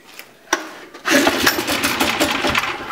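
A flooded generator engine cranks with a sharp pull, then sputters into a rough, loud running roar that holds steady at close range without anyone talking.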